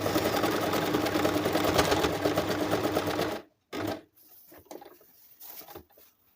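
Sewing machine stitching the base of a cloth shopping bag made from used clothing, a fast steady mechanical whirr for about three seconds, then stopping, followed by brief handling clicks and short quiet gaps.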